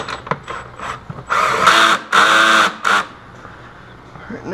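Bolts being tightened down on a snorkel cover, heard as a few short ratcheting mechanical bursts, the longest in the middle, close and fairly loud with quiet gaps between.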